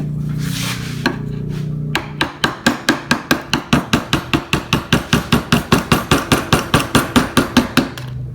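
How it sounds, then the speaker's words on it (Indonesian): A wooden mallet strikes a small gouge chisel during wood carving, about two dozen loud, sharp, close knocks in a steady, regular rhythm after a short scraping start. "selanjutnya di bagian ini kalian ganti menggunakan pahat kol yang lebih kecil daripada yang tadi ya"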